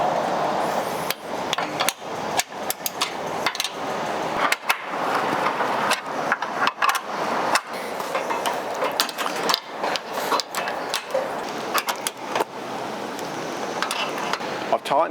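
Awning bracket bolts are tightened on an ARB base roof rack during a Bush Company 270 XT install, heard as a continuous run of close, rapid ratcheting clicks and metallic taps with irregular sharp knocks throughout.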